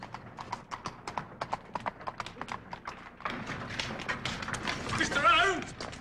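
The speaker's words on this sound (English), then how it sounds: "And here comes a legitimate carriage." A horse-drawn carriage approaches on a street, hooves clip-clopping in a steady rhythm that grows louder and busier as it draws near, with people talking over it.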